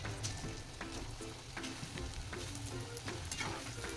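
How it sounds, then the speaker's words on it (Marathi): Mini flower-shaped samosas fry in hot oil, giving a steady close crackling sizzle with bubbling pops throughout and no voices. "तर आपण यांना काढून घेऊया आणि दुसरी बॅच तळायला टाकूया"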